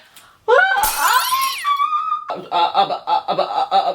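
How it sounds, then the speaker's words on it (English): An award statuette is thrown and shatters in a sudden loud crash, followed by a rising whistling squeal and then a run of rapid clattering and laughter-like bursts. "I didn't realize the award could shatter like that."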